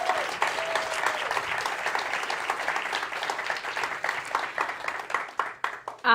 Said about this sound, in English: it's the time to give a big round of applause again for our innovations